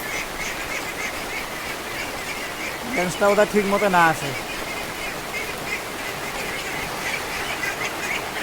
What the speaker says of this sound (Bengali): এটা হল হাঁস হাঁসের ভোগ লাগছে ভোগের ঠেলা দেখো কেমন লাগাইছে ক্যাক ক্যাক ক্যাক ক্যাক করবে লাগছে